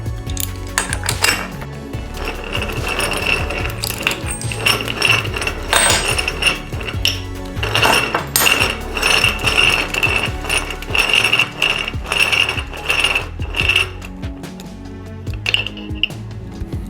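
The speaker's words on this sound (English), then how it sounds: "we're going to use the spider gear tool and set that on top of there" Ratchet turning on a spider gear tool while working on a Jr Dragster Shockwave clutch: a steady stream of rapid metallic clicking and clattering, close and fairly loud throughout with no pauses.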